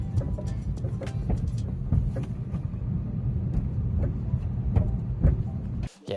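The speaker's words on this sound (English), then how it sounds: "I noticed some clunking, and it was pretty nasty, and it sounded a little bit like this" A 2023 Subaru BRZ riding over bumps, with a steady low road rumble inside the cabin broken by repeated sharp knocks and clunks from the suspension, then a brief drop near the end.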